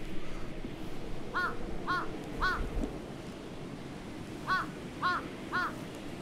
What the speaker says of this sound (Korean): 이 까마귀가 지금 우리 눈 오니까 좋아서 그런 것도 있지만 제가 나타나니까 좋아서 반기는 거예요.